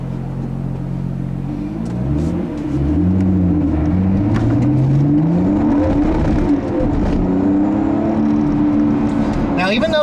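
A 2014 Lotus Evora S with a Toyota V6 accelerates hard through several gears. The loud engine note rises in pitch, drops at each upshift and climbs again, with a brief lull early on.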